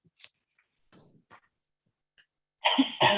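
At a board meeting, after scattered faint rustles and clicks, a sudden loud sneeze bursts out, two quick explosive blasts close to the microphone.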